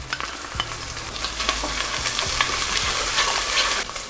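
Garlic paste and green chili frying in a pan, a loud steady sizzle close up with a few stirring scrapes across the surface, no voices.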